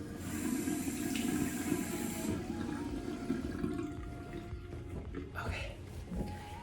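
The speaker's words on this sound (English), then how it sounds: "I am gonna rinse all of it off." Tap water runs steadily and splashes close by as a face is rinsed during a skincare routine, a continuous hissing flow with splashes, then the water stops and quieter clatter follows.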